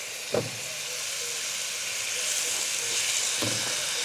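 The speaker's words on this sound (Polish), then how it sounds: "wykładamy mięso i smażymy z obu stron do mocnego zarumienienia." Steady hissing sizzle of meat frying in a hot pan with rendered fat, browning on both sides, continuous and close, with a couple of faint clicks and no voices.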